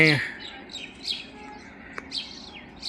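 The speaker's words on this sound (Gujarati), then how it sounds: "દાણા નાખી ગયા હતા, મોર આવી ગયા છે 3 મોર." Birds chirp in short, scattered calls in a courtyard where grain has been scattered and peacocks have gathered, fairly faint over background hum, with one sharp click midway.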